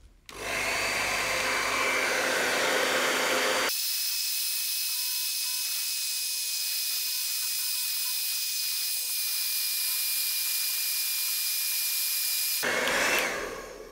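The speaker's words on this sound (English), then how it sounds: "we can actually use a hairdryer to warm up that glue" Steady, loud blowing whoosh of a hair dryer warming glue on a Yashica FX-3 Super 2000 camera, running continuously, with a harsher, rougher stretch at the start and end where it sounds closer or shifted.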